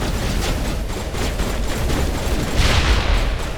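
Shotgun fire in the Mass Effect video game, a dense continuous barrage of blasts and booms with a louder burst near the end, loud and close with no talking.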